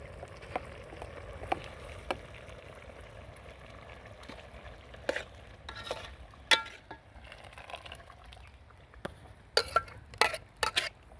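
Chicken with onion and coconut masala paste cooking in a pot over a wood-fired stove, heard as faint, scattered clinks and scrapes of a spoon against the pot, with sharper knocks clustered near the end.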